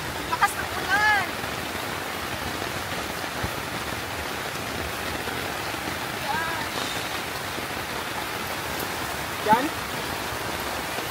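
Heavy storm rain pours down steadily at a campsite on Samal Island, a dense continuous hiss of water, with a voice briefly calling out over it.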